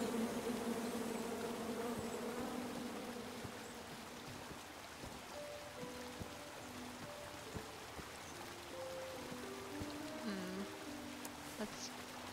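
A tree full of angry bees in the adventure game King's Quest makes a dense, continuous buzzing that is strongest at the start and then fades under soft game sounds and scattered clicks.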